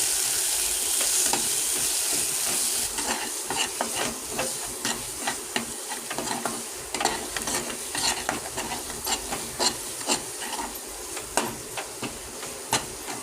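Cauliflower, peas, potatoes and tomato are stirred together in a sizzling pan, with rhythmic scraping strokes of a spoon over a constant frying hiss, close and fairly loud, without voices.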